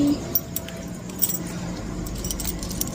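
Keys on a broken key ring jingle and clink in a few light bursts, close by, over a low steady background hum.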